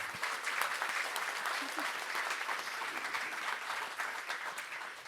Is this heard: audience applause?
yes